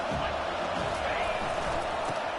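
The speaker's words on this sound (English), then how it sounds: "This crowd bringing the energy and noise early." A packed stadium crowd at a Florida State college football playoff game roars in a constant, dense wall of cheering and noise, with a commentator's voice mixed in.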